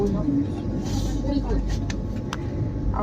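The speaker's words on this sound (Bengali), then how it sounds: "স্টেশনে ঢুকছে ট্রেন" Vande Bharat Express train pulling into Howrah station, a steady loud rumble of rolling carriages with brief metallic clanks and squeals over a busy platform.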